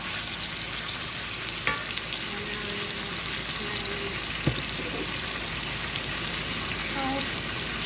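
Fresh garlic sizzles in olive oil and butter in a pan, a constant close frying hiss with a couple of faint clicks and knocks, and no voices.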